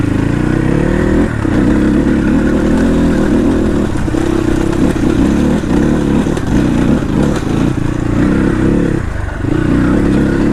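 A new Crossfire RM250 dirt bike rides an off-road trail, its engine roaring loud and close with repeated throttle blips and surges, mechanical clatter underneath, and no talk.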